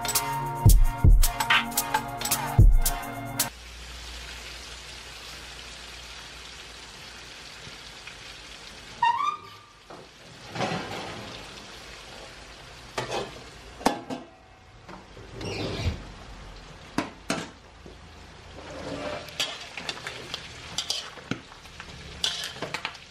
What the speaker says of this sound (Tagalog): Isasangag-sangag natin sa kawali na malaki.